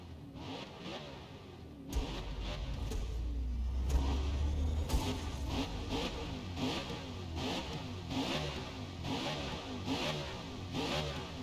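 A NASCAR stock car engine in a video game revs hard and accelerates on a Japanese mountain pass, its roar rising and falling in repeated pulses, loud and close throughout with no talking.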